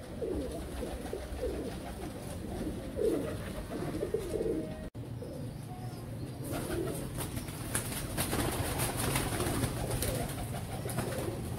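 Teddy pigeons coo softly and steadily, several birds murmuring close by with a constant low background hum and occasional rustling.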